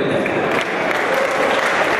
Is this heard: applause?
yes